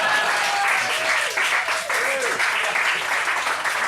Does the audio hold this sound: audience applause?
yes